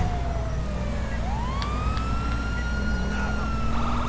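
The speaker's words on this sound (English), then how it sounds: "they be acting like they don't hear the sirens" Police car siren wailing in the GTA 5 video game, a steady rising and falling tone over a constant engine and traffic rumble, fairly close and continuous.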